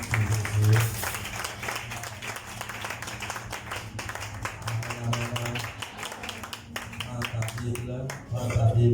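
A church congregation clapping and applauding together through the whole stretch, with steady overlapping hand claps mixed with voices and music in the room.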